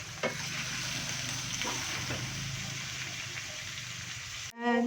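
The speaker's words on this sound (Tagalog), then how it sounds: "Niluluto na natin yung bupis. Ginisa na natin siya sibuyas, bawang." Bopis, chopped pork lung and heart, sautés in a pan with garlic and onion, giving a continuous close sizzle with a few stirring scrapes and clinks before a brief different noise cuts in at the very end.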